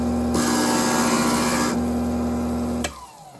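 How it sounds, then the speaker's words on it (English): A stained glass grinder bites into a glass piece in a loud, steady whirring grind for about two and a half seconds, then cuts off abruptly, leaving only a faint motor hum. "if they don't like the noise of the grinder, it can be irritating to them"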